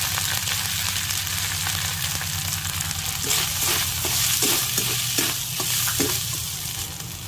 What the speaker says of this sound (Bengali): আর কতগুলো গোটা কাঁচা লঙ্কা দিয়ে একটু নারকেলটা ভাজা ভাজা করে নিয়ে নেব